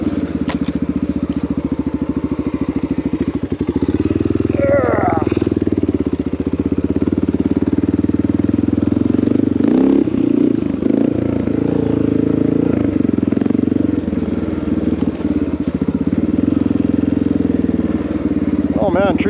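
A Honda XR650L dirt bike runs on a wooded trail with a loud, steady engine drone, rising and falling with throttle and gear changes, while the rider's voice comes through now and then over the engine.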